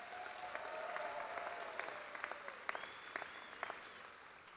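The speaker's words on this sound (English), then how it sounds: "So let's give your friends and family a big round of applause." Applause fills a hall at a college graduation ceremony, a steady wash of many hands clapping with a few sharper claps standing out, moderately loud and continuous throughout.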